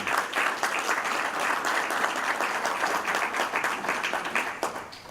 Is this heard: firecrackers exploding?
no